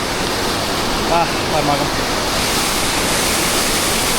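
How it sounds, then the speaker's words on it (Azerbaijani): Meltwater waterfall pouring down beside a snowy mountain trail gives a loud, continuous rushing roar, with a few short spoken words over it. "Şəlalə bu, axan şəlalə buradan gəlir tökülür aşağı."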